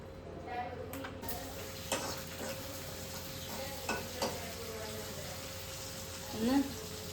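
Mustard seeds and cumin sizzle in oil in a home kitchen, a soft steady crackle dotted with small pops and clicks, fairly quiet, with a faint voice briefly in the background.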